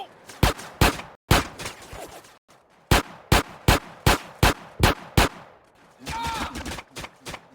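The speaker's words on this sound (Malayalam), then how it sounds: "ഗൈസ് അവന്മാര് വെടിവെക്കുന്ന." Enemy gunfire in a video game rings out as a rapid series of sharp, loud single shots, about a dozen in irregular rhythm, followed by a brief sustained burst near the end.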